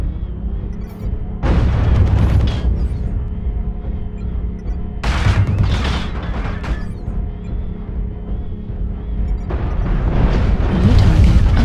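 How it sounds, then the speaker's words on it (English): Video game artillery strike explosions land as three heavy booming blasts with rumbling tails, loud and close, spaced a few seconds apart. "Artillery strike activated."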